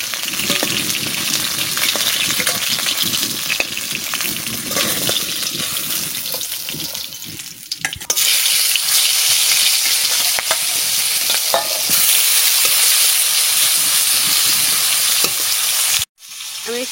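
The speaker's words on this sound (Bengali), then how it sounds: "সুন্দর মাছ ভাজা হয়েছে।" Fish fries in a pan for a spinach fish curry, a loud, steady crackling sizzle with scraping stirs throughout and a brief drop in the noise near the end.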